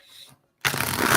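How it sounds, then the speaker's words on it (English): A deck of tarot cards being shuffled by hand, a brief soft start, a pause, then a loud, dense burst of riffling card noise lasting about half a second, close up. "this deck don't really like to shuffle, so I got to do it a little differently"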